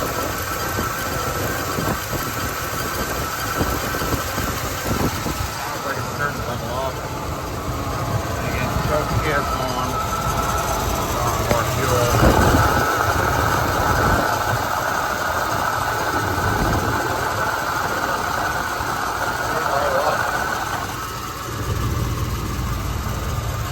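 A large-displacement engine in a 1978 Buick Electra idles steadily with a constant low rumble and vibration, close and continuous, with slight rises in revs while people talk over it.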